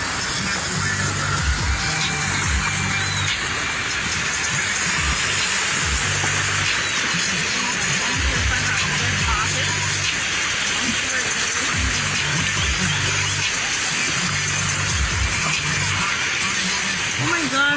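Heavy rain and floodwater gush along a flooded main street in Guyana, a loud continuous watery hiss and roar, with people talking over it at intervals.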